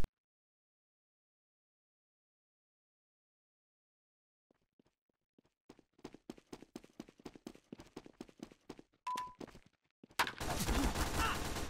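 SMG fire in Team Fortress 2 starts faint and sparse after near silence, then builds into a steady string of evenly spaced rapid shots, ending in a louder, dense burst of noise.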